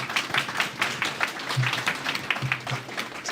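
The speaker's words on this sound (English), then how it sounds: "I want to give a quick round of applause to our panelists" A small audience at a robotics and AI enterprise panel event claps for the panelists; the claps are distinct and fairly close, an uneven patter lasting a few seconds, with a faint murmur of voices underneath.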